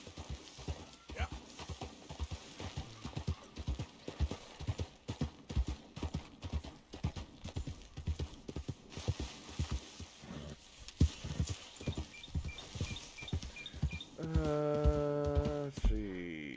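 In Red Dead Redemption 2, hooves clip-clop in a steady rhythm for a long stretch, followed by a horse's whinny near the end.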